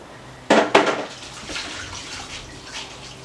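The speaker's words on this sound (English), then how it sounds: "once everything is mixed well, clean off your beaters." Mixer beaters being rinsed clean in a dishpan of hot soapy water in a home kitchen: two sharp clanks and splashes near the start, then softer sloshing and dripping that fades out, with no one talking.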